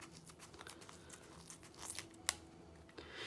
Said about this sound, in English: as we're removing this liquid latex, those peel right off as well